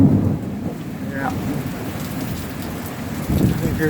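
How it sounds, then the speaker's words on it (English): Central Florida summer downpour with dense rain hiss and low thunder rumbling at the start and again near the end, close and continuous. "Just the normal rain on a Sunday morning here in Central Florida."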